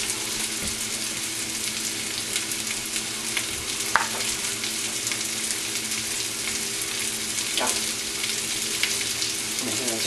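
Salmon cake mixture being stirred near a frying pan, with a continuous loud sizzle throughout and a couple of brief scraping clicks standing out from the steady hiss.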